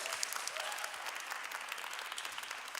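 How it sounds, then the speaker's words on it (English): A crowd at a Burmese American community celebration of Myanmar Union Day claps in a brief, even round of applause, moderately loud and filling the room. "Can we get another round of applause?"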